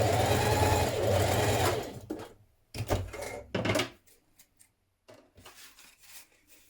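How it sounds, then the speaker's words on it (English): Sewing machine stitching and back tacking a blouse facing, a loud steady whir for about two seconds, then short bursts of stitching separated by pauses. "We're going to stitch and back tack here down to the bottom."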